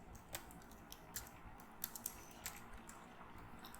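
Typing on a computer keyboard while writing HTML code, a steady run of quiet close key taps at an uneven pace over low background hiss.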